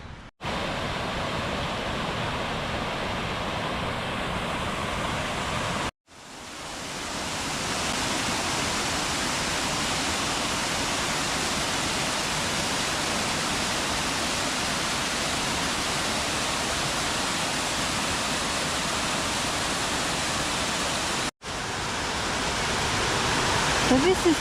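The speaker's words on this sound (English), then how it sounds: "I'll show you in a bit these lovely waterfalls" Waterfalls near Buttermere in the Lake District give off a steady, loud rush of falling water that fills the whole scene, broken by two short cuts.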